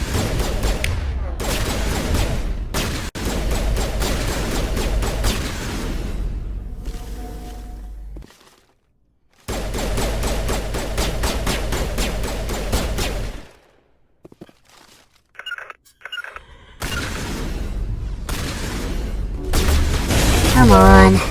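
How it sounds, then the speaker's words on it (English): Pistol gunfire in the Mass Effect video game, a loud, dense run of combat shots and blasts that cuts out into brief gaps before resuming, with the battle sound staying busy and heavy throughout. "She's using a pistol."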